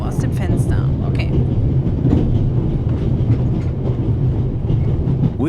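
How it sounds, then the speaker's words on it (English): A train rolls past outside the window in The Raven, a steady loud rumble with rhythmic clattering that holds for the full few seconds. "We Swiss are crazy about trains."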